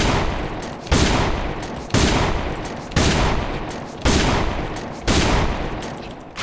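Sniper fire from a DSR-1 Dreamcatcher rifle in the online shooter AVA: six heavy, loud shots about a second apart, each one a sharp crack that fades out before the next. No voices.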